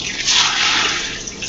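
Water splashes and pours into a pot to cover a pudding bag, a short bright gush close by with no talking.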